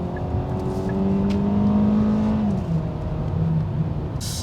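A Hyundai Sonata with front-wheel drive accelerates hard in sport mode. Its engine note climbs steadily and loud from inside the car, then eases off near the end, with no talking.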